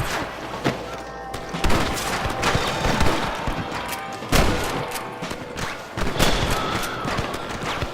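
Gunfire in Red Dead Redemption, a chaotic exchange of sharp rifle and pistol shots with heavy booming reports at irregular intervals, loud and close amid a noisy battle din.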